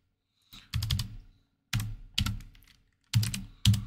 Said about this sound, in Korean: 재빠르게 컨트롤 Z 눌러서 빠져나올게요